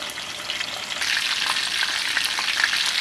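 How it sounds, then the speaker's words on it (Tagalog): Whole chicken legs deep frying in oil over medium heat give off a steady, close, loud sizzling hiss that swells slightly after the first second and keeps crackling evenly throughout. "niluluto ko po siya sa medium fire lamang, ano ho, para hindi masunog"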